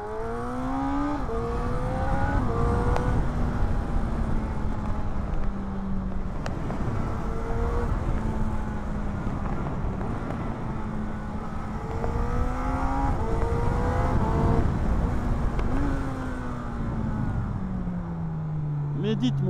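Motorcycle revving hard through its quickshifter gears, the engine note climbing and dropping in repeated stepped shifts up and down, loud and continuous throughout.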